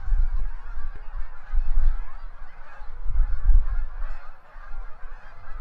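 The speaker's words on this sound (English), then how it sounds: "Hundreds of geese soar above, dipping and swaying as they slow to make a comfortable landing" A large flock of migrating geese honks overhead above a marsh, a steady, dense wash of overlapping calls at moderate distance with low rumbling wind underneath throughout.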